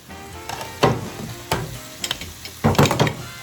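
Green pepper frying in a covered pan while cooking Puerto Rican picadillo rice: soft sizzling with intermittent louder bursts of crackle and stirring clatter, close and alone with no talk.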